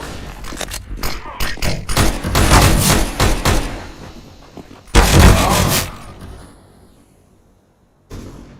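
Grenade and flashbang blasts from the CS:GO video game: a dense burst of loud explosive bangs in the first few seconds, a second sharp blast near five seconds that fades out, then a final hit at the end.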